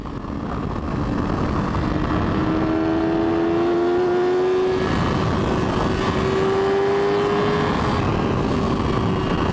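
A 2010 Yamaha R6 sport motorcycle engine howls at high RPM, a loud, sustained, close whine whose pitch climbs steadily, dips briefly and climbs again, with no talking.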